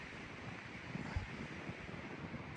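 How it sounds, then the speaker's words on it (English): Strong wind at Buffalo Pass on the Pacific Crest Trail, snowy terrain, rushing and buffeting against the microphone in a dense, steady roar with a few low gusty thumps. "Ooh, that wind's whipping now."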